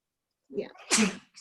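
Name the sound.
sneeze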